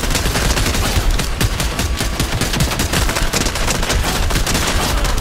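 Sustained turret gunfire in Fortnite, a loud, rapid unbroken stream of shots that fills the whole stretch with no pauses and no talking.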